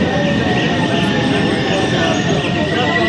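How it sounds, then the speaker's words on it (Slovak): Cairo metro train running, a loud, steady rumble and rush filling the whole stretch, with a faint tonal whine riding on top. "Welcome to metro in Cairo."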